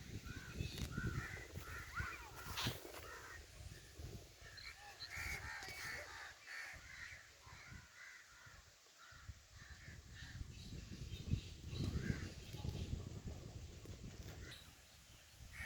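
Migratory birds, crows among them, calling in a village, repeated caws spread across the whole stretch over light wind noise, moderately distant.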